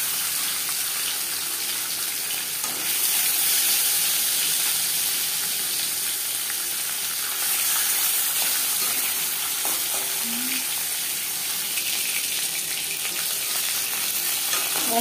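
Marinated bhetki fish sizzles and spits steadily in hot mustard oil, a loud, close, continuous frying hiss with occasional stirring, and no talking.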